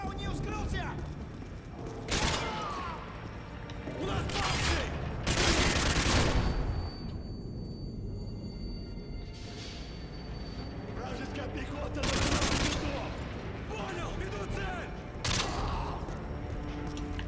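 Submachine gun fire in the Modern Warfare 2 campaign, with several loud bursts of rapid shots separated by quieter stretches, heard over someone talking and game sounds.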